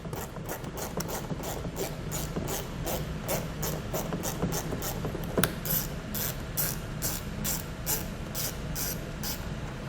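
Rapid rhythmic clicking of a ratchet wrench turning out bolts along a vehicle's front fender liner, steady and close, running continuously with no speech.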